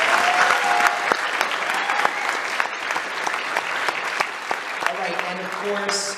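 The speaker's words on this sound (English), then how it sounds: "so let's give them a round of applause" Applause from the audience at an election debate for the candidates, a steady moderate clapping wash with sharp individual claps, tapering off as a voice begins talking near the end.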